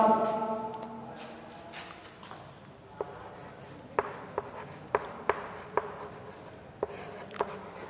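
Chalk or marker scratching across a classroom board during a Sanskrit lesson, with a soft rubbing stretch early on, then a run of sharp taps and strokes in an irregular rhythm, close and fairly quiet, with no talking.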